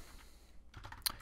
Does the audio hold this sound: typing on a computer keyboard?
yes